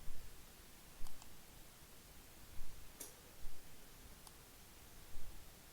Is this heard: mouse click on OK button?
yes